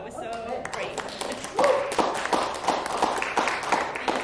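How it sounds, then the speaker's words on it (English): An audience clapping for Susan at a live reading event, a patter of scattered applause that swells after a moment and continues steadily, with a voice talking over the start. "let's clap for Susan one more time"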